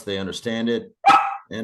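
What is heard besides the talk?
small dog barking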